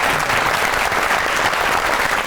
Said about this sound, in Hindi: पहले तो बुलबुले के लिए बहुत सी तालियां होनी चाहिए।